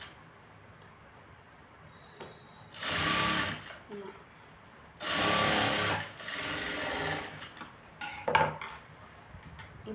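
Sewing machine top-stitching a blouse seam, two firm bursts of stitching with a shorter run and small handling clicks between them.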